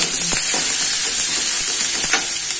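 Crushed garlic, three cloves' worth, dropped into a hot pan for a beans and carrot poriyal, fries with a steady, close sizzle and faint stirring scrapes throughout, with no talking.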